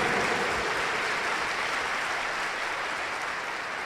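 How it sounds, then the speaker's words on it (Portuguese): A church congregation at Mass claps together in a dense, sustained round of applause, loud and even throughout with no voices rising above it. "Dê uma salva de palmas para Jesus"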